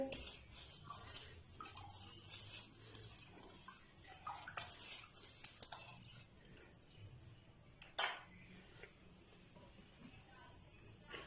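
Ginger garlic paste and vinegar marinade for Lahori chargha chicken is stirred in a bowl, giving repeated close clinks and scrapes of a utensil against the dish, with faint background voice.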